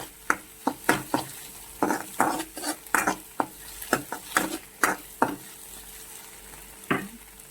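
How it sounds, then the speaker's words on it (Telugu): Egg frying and being stirred in a pan for hakka noodles, with repeated scraping and clinking strikes of a utensil against the pan over a soft sizzle, close and irregular. "ఎగ్ ఇలా ఫ్రై అయితే చాలు."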